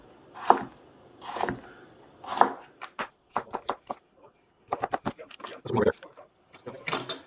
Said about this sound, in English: we'll lay them down and chop them into matchsticks